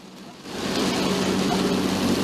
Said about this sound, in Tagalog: non-stop rains and strong winds pummeled the